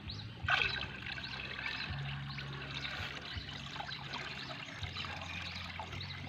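Water is poured into a drum on a vegetable farm, making a steady watery rush and trickle with a low rumble underneath. It is fairly quiet, with no speech over it.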